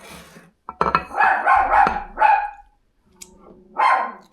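A female pet dog barks inside a home, with a rapid string of loud, close barks, a brief pause, then another bark, alone without talking.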